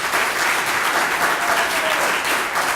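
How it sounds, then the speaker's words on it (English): A crowd at a National Service recognition event in Richmond claps for Mayor Dwight C. Jones, producing steady, full applause from many hands that holds at an even loudness throughout. "Give him a round of applause."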